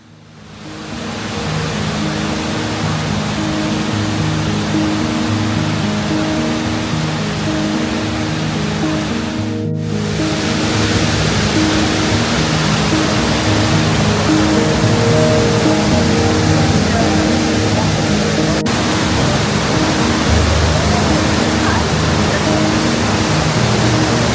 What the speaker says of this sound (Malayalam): 7 lakh ലിറ്റർ പെർ സെക്കൻഡാണ് ഈ പാറയിലേക്ക് വന്ന് ശക്തമായി പതിക്കുന്നത്